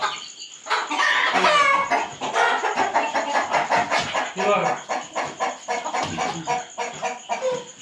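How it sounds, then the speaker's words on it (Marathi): A native village hen clucks repeatedly up close in a quick, uneven series, with talking mixed in. "ही मित्रांनो गावठी कोंबडी आहे"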